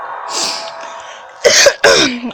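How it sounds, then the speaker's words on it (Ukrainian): Two sharp, loud coughs close to the microphone, preceded by a softer breathy vocal sound. "Щось кашляю сильно."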